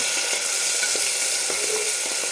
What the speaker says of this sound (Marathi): कांदा छान सोनेरी कलरवर परतून घ्यायचं